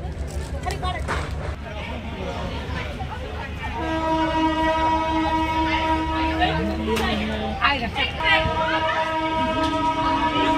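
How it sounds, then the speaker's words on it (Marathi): A train pulls out from Beed toward Ahilyanagar, its horn sounding as long sustained tones over rumbling wheels, with a crowd babbling in the background throughout. "ट्रेन निघाली बघा मित्रांनो"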